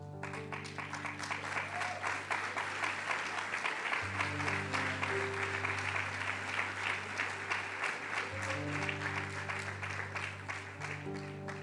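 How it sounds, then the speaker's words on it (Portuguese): A church congregation claps steadily and continuously for several seconds in worship while sustained organ-like music plays underneath. "Louve Ele com as suas palmas."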